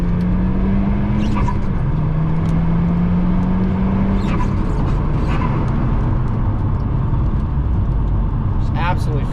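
A Volkswagen Golf MK6 R on stock exhaust accelerating hard through a corner, a loud, steady engine drone with a rising gear note and road rumble throughout, heard from inside the car.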